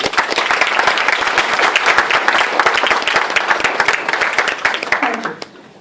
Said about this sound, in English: Can we have a round of applause for our gathering here today?